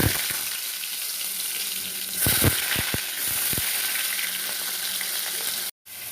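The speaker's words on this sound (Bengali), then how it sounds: "পটলগুলো এইভাবে লাল লাল করে ভেজে নিতে হবে" Whole pointed gourds fry in hot mustard oil with a loud, steady sizzle, broken by a few sharp pops and stirring clatters.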